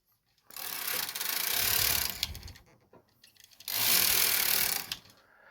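Two rows of thicker yarn are knitted, each pass a long, close rasping, rubbing mechanical sweep lasting a couple of seconds, separated by a short quiet gap with a few clicks.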